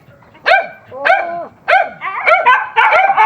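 Several dogs barking nearby in short, loud bursts, with some higher yips overlapping toward the end.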